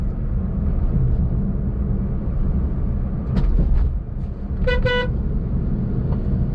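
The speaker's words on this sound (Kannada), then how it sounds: "ಹಾರ್ನು ಚೆನ್ನಾಗಿದೆ" An MG Comet EV compact electric city car sounds its horn in two short honks, the second a quick double blast, over steady road and cabin noise while driving.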